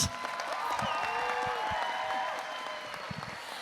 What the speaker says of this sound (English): just one more round of applause for you and for them